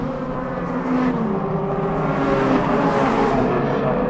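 Civic Cup race cars at Brands Hatch roar past, a loud, sustained engine drone with shifting pitch as cars accelerate through the circuit, growing slightly louder after the first second.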